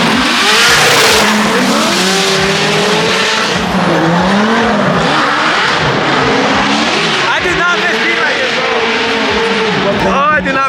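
BMW E46 and Dodge Viper drift cars battling at a Formula Drift event, loud roaring engines with rising and falling revs and screeching tires, continuous and close, with crowd noise and voices mixed in.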